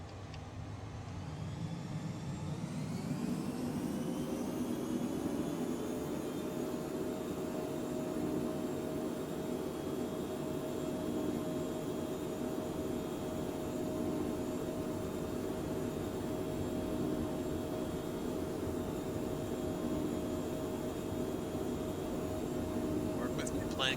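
A flight-simulator airplane engine spools up over the first few seconds into a steady, droning whine and hum. It holds close and constant for the rest of the stretch.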